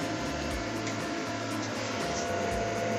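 A steady mechanical hum and whir of running motors fills the air, with a rhythmic low pulsing throughout and no talking.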